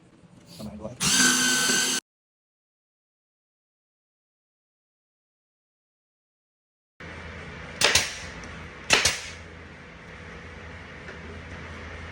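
Power drill with a bit running during a DIY shoe rack build, a steady loud whir of about a second near the start, then later a broadband buzz with two sharp bursts as the bit bites; speech is heard around it.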